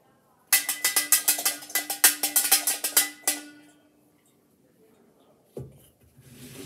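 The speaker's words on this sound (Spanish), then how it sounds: "Este es el sonido de la campana pequeñita." A small Christmas bell, one of a set received as a holiday gift, rings in a quick series of bright strikes for about three seconds, then fades into quiet with a brief soft knock near the end.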